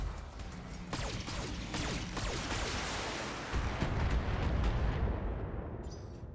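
Barrage of weapons fire from a mech in a BattleTech match: repeated sharp blasts and crackling shots stacked into a dense, loud, continuous rumble that swells near the end before tailing off.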